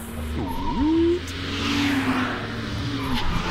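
Video game cars in Blind Drive roar and whoosh past with tire squeals and engine whines sweeping up and down in pitch, several passes over a few seconds, fairly close and loud with little talk.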